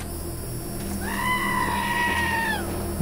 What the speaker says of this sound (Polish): O, widzimy kozę Aberforth.